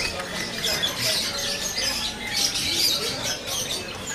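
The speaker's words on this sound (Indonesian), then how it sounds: "Ini kenari loper gelap." A dark loper canary, a caged bird offered for sale, gives continuous high chirping and twittering calls, moderately close, over a constant background hiss.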